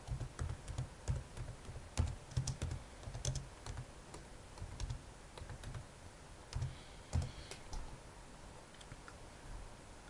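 Irregular bursts of computer keyboard typing, with clustered key clicks and brief pauses, close and fairly quiet with no talking.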